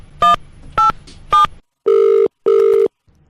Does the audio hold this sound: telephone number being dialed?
yes